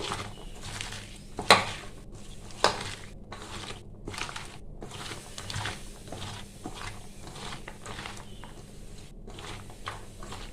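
Chopped banana stem and potato are worked together by hand in a bowl with salt, making soft, continuous squelching and rubbing, with two sharper clinks against the bowl early on.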